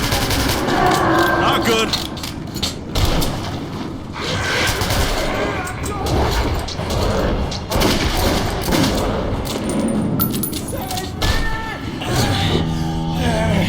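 Dense, continuous gunfire rattles in the shooter game Metro 2033 Redux, rapid bursts and booms layered throughout with panicked shouting over them.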